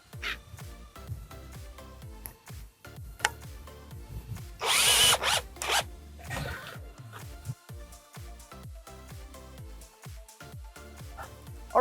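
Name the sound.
driving 1-inch drywall screw into fence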